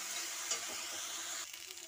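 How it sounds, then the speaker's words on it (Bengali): Ground ginger paste fries in oil, a soft, even hiss that steadies for a moment and then eases into quieter crackling, faint and close. "এটাকে আমি ভালো করে কষাবো যতক্ষণ না কাঁচা গন্ধ যাচ্ছে।"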